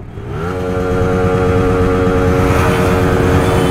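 Many motorcycles rev their engines together during a large group ride of 2000+ riders in Delhi NCR, a loud, dense, sustained roar that swells in the first half second and holds steady, with rising engine tones layered throughout.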